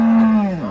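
A single cow at a cattle market in Baramati lets out one short, loud, close moo with a steady pitch that sags slightly at the end.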